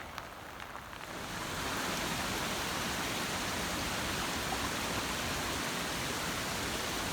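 Water pours down a waterfall across the hiking trail to Sky Pond in Rocky Mountain National Park, a close, loud, steady rushing hiss that swells after the first second and holds without a break.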